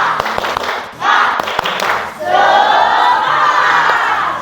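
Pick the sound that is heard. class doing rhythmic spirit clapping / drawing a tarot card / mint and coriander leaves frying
class doing rhythmic spirit clapping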